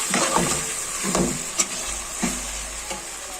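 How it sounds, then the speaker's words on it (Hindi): Masala fries in a pan for white chicken pulao, a steady close sizzle with several scraping stir strokes of a spoon at irregular intervals, no talking. "ये देखें, मसाला भून रही हूँ,"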